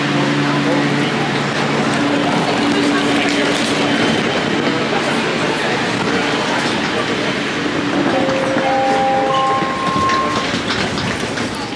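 Passenger train bound for YVR Airport in Vancouver, a steady loud rolling rumble and rail noise throughout, with rising electronic motor tones near the end and some background voices.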